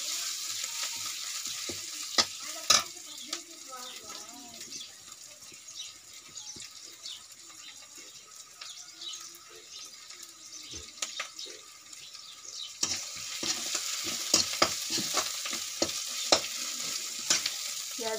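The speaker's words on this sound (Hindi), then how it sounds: "पेस्ट को अच्छे से भूनना है।" Onion paste frying in a pan, a continuous soft sizzle with sharp intermittent clicks and scrapes of a spoon stirring, brighter and busier toward the end.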